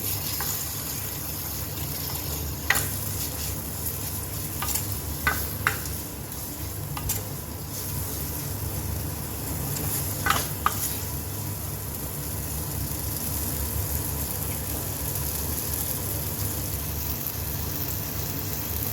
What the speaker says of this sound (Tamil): பெருங்காயம் இது இப்போ நல்லா ஃப்ரை பண்ணிக்கலாம்